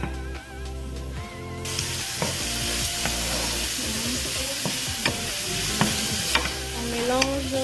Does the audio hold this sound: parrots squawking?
no